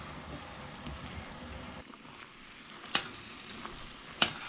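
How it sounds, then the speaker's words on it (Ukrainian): Pine cones simmering in sugar syrup are stirred in a pot, giving a low, steady bubbling hiss with two sharp spoon clicks against the side near the end. "гарно перемішуємо."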